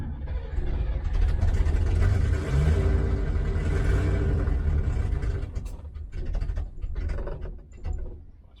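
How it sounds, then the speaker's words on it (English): An old 1971 engine runs rough, popping back through one of its carburetors, a loud close rumble with uneven revving and sputtering that dips and surges. "It's popping through one of the carburetors."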